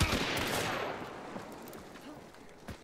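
A gunshot burst from the shooter game Hunt: Showdown opens sharply and loud, then decays into a lingering reverberant tail, with a second fainter report near the end.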